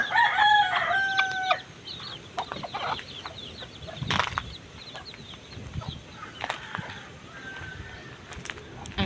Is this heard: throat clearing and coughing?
no